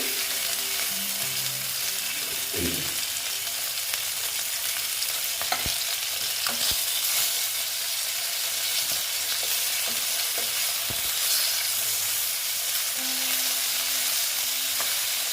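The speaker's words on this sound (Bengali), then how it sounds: "মনে হচ্ছে আমার ভাজাটা হয়ে গেছে কারণ একটু কড়া করেই করি" Pieces of catla fish frying crisp in hot oil, a steady close sizzle and crackle with a few sharp spatula taps and scrapes throughout.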